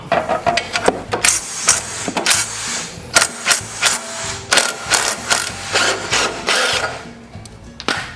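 Ratchet wrench clicking in repeated bursts as it loosens a 13 mm bolt on a Kawasaki FD590V water-cooled engine, close and fairly loud, with short pauses between strokes and no talk.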